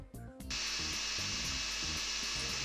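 A small power drill with a 6mm bit bores into the metal base of a Matchbox Ford Escort Mk2 RS2000 model car, a steady high whine starting abruptly after a brief lead-in and running close and continuous to the end.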